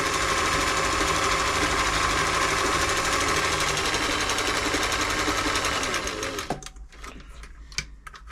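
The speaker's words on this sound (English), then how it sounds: "So we do a very fine short stitch. Quite fast, move to left and right" A Singer 348 sewing machine runs fast on a fine, short zigzag stitch, a loud, steady mechanical whirr and clatter that runs continuously before stopping abruptly near the end, leaving a few faint clicks.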